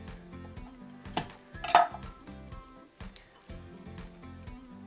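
Apple pieces and three garlic cloves placed into the bottom of a roasting pan for cider-brined roast chicken: scattered light clinks and knocks of metal and utensils, a brief louder rattle, close by.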